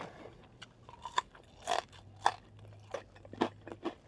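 Crispy Jollibee french fries crunch between the teeth in a quick series of close bites and chews, sharp crackly snaps spaced irregularly over a few seconds with no talking.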